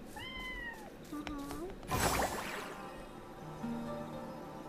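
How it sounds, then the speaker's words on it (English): A cat in a video game meows a few times, short synthetic-sounding calls mixed with game effects and a brief noisy burst, fairly quiet overall. "I can't pet this cat for some reason. It doesn't let me."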